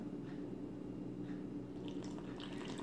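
Water poured into flour for a sourdough bread dough, a steady soft liquid pour with faint squishy drips near the end, close and continuous, no talking.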